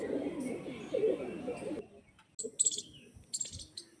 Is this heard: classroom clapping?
no